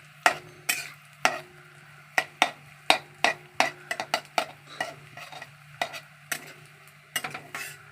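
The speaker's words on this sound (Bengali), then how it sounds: "আমি একটু সাদা তেল দিলাম, আর এই যে নিম ফুলগুলোকে দিয়ে দিচ্ছি" Dried neem flowers fry in white oil in a pan under a steady faint sizzle, punctuated by repeated sharp scrapes and taps of a spatula stirring against the metal.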